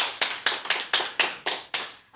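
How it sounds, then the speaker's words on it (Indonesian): Hand clapping at a youth drug-abuse awareness session, about eight sharp, evenly spaced claps ringing close and clear in a room, then stopping. "beri tepuk tangan kepada adik Dedi Sanjaya"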